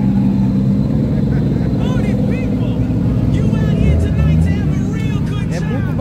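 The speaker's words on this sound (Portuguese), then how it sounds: "É muito barulho, velho, esse motor aqui." Drift cars roar loudly around a track at a drift event in Japan, engines revving and wailing with squealing pitch sweeps, while someone talks nearby over the constant din.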